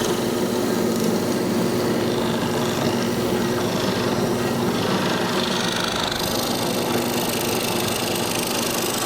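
Drill press driving a hollow mortising chisel into wood to cut a mortise, a continuous loud motor whine with grinding cutting noise that rises in pitch and intensity partway through, with no pauses.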